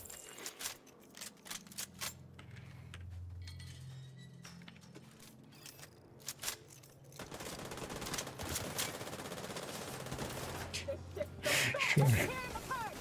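Video game gunfire, scattered sharp shots and short bursts, with heavier sustained firing in the second half, moderately loud, mixed with game dialogue and speech.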